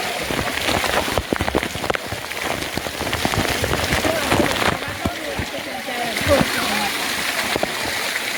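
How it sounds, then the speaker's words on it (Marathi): Water pours down an artificial waterfall at Kagal Pazar lake, a dense, continuous splashing rush like heavy rain on a surface, with voices faintly mixed underneath. "हा बऱ्याच सेफ धबधबा, कृत्रिम धबधबा आहे"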